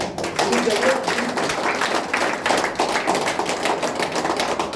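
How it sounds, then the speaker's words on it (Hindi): Audience applause for invited guests at a health awareness program hall, a dense steady wash of many hands clapping loudly for several seconds. "तो उनके लिए एक जोरदार तालियां।"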